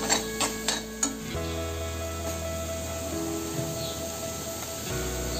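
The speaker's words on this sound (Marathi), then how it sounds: "आल्याचा आणि लसणीचा वास जाईपर्यंत आपण हे ढवळत राहायचं साधारण 1 मिनिट" Masala with ginger and garlic frying in a pan, with a few sharp spoon taps on the pan at first and then a steady low sizzle and scraping as it is stirred, close by and with no voices.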